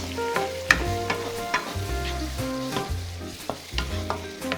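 Tomatoes fry in a pan with a steady sizzle while a utensil scrapes and stirs them in repeated close strokes, with no talking.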